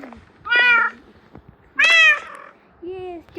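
A cat meows three times, loud and close, with short pauses between each cry, waiting to be fed fish.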